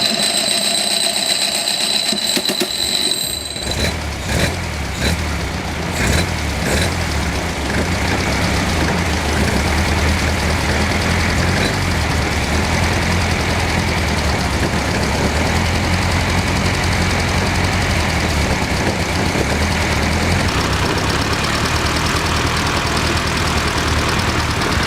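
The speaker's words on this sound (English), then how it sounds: "let's see if we can get it idling again." A roughly 100-year-old Aussie 7 car engine cranks with a few uneven chugs, then settles into a loud, steady idle that rumbles on continuously, close by.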